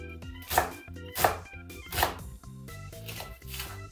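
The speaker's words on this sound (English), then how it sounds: "I'm slicing up some onions. This time it's really tiny" A knife chops onions into tiny cubes on a board, a few distinct knocks spaced unevenly under steady, prominent background music.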